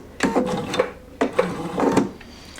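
Sewing machine stitching a bound buttonhole in two short, close bursts of rapid mechanical chattering with a brief pause between them.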